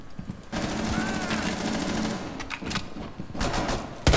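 Sustained automatic gunfire in a Rainbow Six Siege match, a loud rapid burst running for several seconds with more shots near the end, no voices over it.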